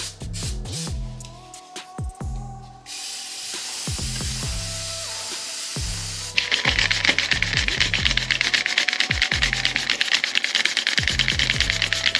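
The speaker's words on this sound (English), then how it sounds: "I'm going to grab my cloth, grab the chain and spin the wheel again." Cloth rubbing along a dirty motorcycle chain as the rear wheel is spun, giving close, repeated rhythmic swishes and scraping strokes, with a steady brighter hiss of sustained wiping in the final half.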